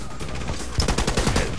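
Rapid gunfire in a first-person shooter, a close, loud string of sharp shots that picks up in intensity partway through and keeps going as a fast, rattling burst.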